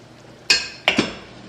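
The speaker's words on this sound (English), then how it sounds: "just pour some of your broth into your blender" A ladle knocks against a blender jar while broth for birria is poured in: two or three sharp, bright clinks close up, with no talking.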